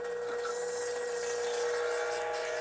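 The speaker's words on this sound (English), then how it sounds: "And you can hear it's pulling air from here." A car air conditioning vacuum pump pulls air through an AC service line, giving a steady broadband hiss and hum with a constant tonal drone, close and continuous throughout.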